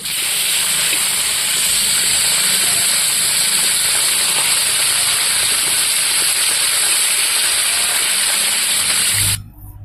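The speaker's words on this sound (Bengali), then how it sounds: "এখন আমি ইলিশ মাছের মাথাগুলো ভেজে নেব ডাল রান্না করার জন্য তো কড়াইতে তেল দিয়ে দিলাম" Hilsa fish heads fry in hot oil in a wok, producing a loud, continuous hiss of spitting oil that holds steady and then cuts off abruptly at the very end.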